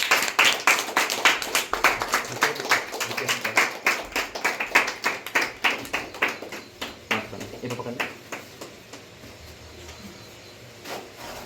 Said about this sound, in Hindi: दुगने आदर योग्य, ताली बजा के स्वागत करेंगे।